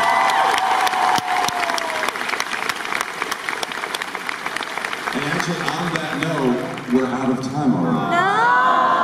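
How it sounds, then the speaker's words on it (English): Convention panel crowd at a Philadelphia comic con claps and cheers in a sustained, lively burst of applause, with a few whoops and a voice rising through the noise near the end. "Let's give him a round of applause."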